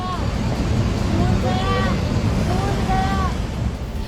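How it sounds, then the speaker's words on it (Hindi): A flash flood torrent roars down the Kangrang nala in Kinnaur, a steady loud rush of water and debris that persists under excited voices and shouting throughout. "कंगरंग नाले में सैलाब इतनी तेजी से आया"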